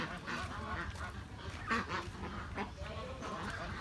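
A plump farm meat duck quacking by a backyard pond in rural Long An, Vietnam, a few honking calls standing out against steady outdoor background noise.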